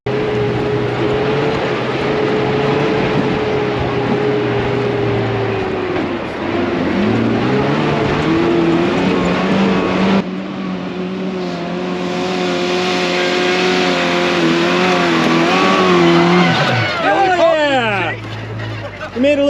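Cheap two-wheel-drive car off-roading in sand, engine revving hard and straining in long sustained pulls, close and loud, ending in a sharp rising rev.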